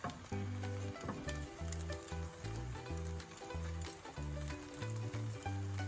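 Rice is added to scrambled egg frying in a pan, giving a sizzle with light patter and stirring. Low tonal hums come and go beneath the frying throughout.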